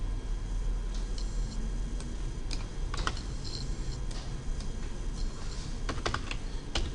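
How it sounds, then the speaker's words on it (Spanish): A computer mouse clicking while working in Excel, sharp scattered clicks and light taps close by over a steady background hiss, no talking. "hago clic donde dice salario y hago clic en facultad"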